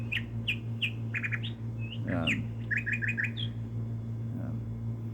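Short bird chirps and tweets sound in quick repeated bursts, clear and fairly close, with brief overlapping calls and a soft spoken word partway through.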